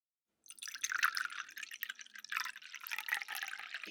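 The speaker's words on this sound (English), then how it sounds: "Here's a little extra pour for your cup." Liquid poured into a cup, a steady trickling, splashing pour that starts after a short silence and runs continuously at moderate, close level with no talking.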